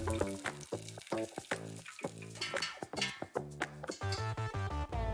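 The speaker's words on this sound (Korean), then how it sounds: "안에 소가 새우기 때문에 4분 정도만 튀겨줘도 충분히 익더라고요." Shrimp-filled dim sum deep-frying in hot oil, a faint continuous sizzle and bubbling that rises and falls for several seconds with no one talking.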